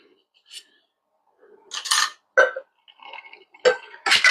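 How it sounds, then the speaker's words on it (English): A metal Boston shaker tin is capped over a pour of Arette reposado tequila: a few sharp, close metallic clanks and clatters in separate bursts with short pauses between them. "Going to get that into our mixing tin. Cap it up."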